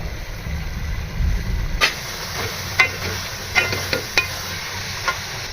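Beef korma with tomato, ginger paste and spices fries in cooking oil with a steady sizzle, punctuated by several scraping stirs of a spoon against the pan.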